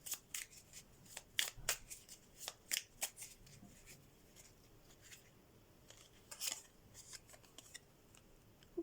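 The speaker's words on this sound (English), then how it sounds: "Let me give them another shuffle." Tarot cards are shuffled by hand in close, quiet, crisp riffles and soft slaps that come in irregular bursts over several seconds. No voice is heard.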